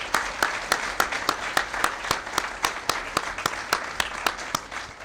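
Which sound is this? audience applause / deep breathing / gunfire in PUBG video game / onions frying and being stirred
audience applause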